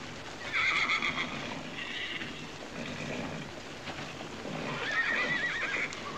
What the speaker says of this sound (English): I've got some horses up for auction here